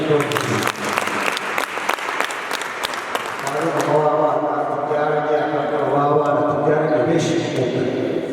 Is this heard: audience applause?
yes